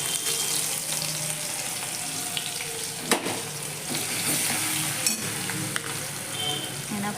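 Finely chopped green chillies fry in hot oil for a dried peas curry, giving a steady close sizzle with a few sharp clicks and pops, and no one speaking.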